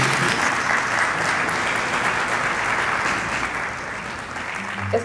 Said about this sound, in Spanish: Vamos a darle otro aplauso al cine colombiano